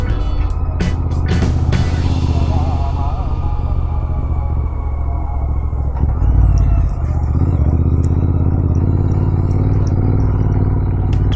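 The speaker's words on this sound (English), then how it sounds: "to take the motorcycle out in the morning for a quick spin" A Royal Enfield Interceptor 650 motorcycle engine runs close by with a loud, steady, deep rumble, and a few sharp clicks come at the start.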